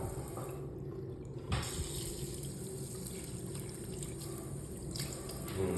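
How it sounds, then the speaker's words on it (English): Water runs steadily from a restroom sink faucet in a commercial building. The flow is continuous and moderately close, with a brief louder surge near the start and no talking. "Water's working now."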